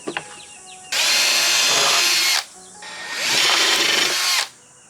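Power drill boring into a teak swim platform board, two sustained loud bursts of about a second and a half each separated by a short pause, with faint clicks before.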